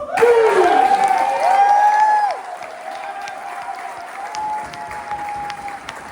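Applause and cheering from the audience at a farewell speech, loudest in the opening seconds and then fading to lighter clapping. Whistle-like tones and raised voices run through the crowd noise.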